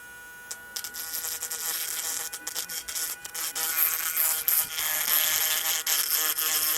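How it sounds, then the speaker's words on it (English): A Hardell rotary tool grinds around the rough edge of a seashell, a steady high whining buzz with a gritty rasp that surges and dips as the bit moves along the shell, close and fairly loud with no talking. "I'm going to use the grinder to grind all the way around it to make it nice and smooth"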